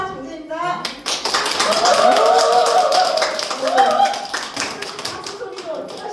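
Indoor audience at a Sunrider Korea group seminar claps steadily for several seconds, a dense sustained patter under a speaking voice and some murmuring.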